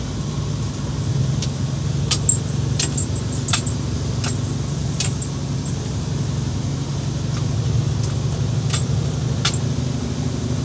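Keys on several key rings jingling in brief, scattered clinks inside a truck cab, over a steady low engine and road hum.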